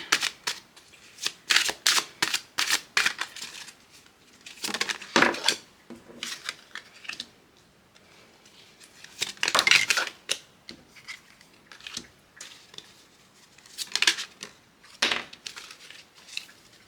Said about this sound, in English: let's see if we can get more cards for you